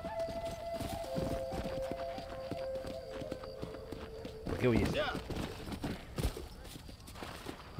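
Horse hooves clip-clop steadily through the scene in Red Dead Redemption, moderately close under game background sound, with a brief animal call and Spanish speech partway through.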